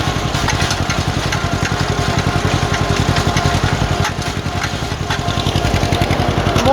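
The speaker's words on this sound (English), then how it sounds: "It's spreading all right, I guess. Watch where I'm driving," A tractor engine drones steadily at close range while it pulls a manure spreader, its throbbing, pulsing chug running continuously with slight dips in load.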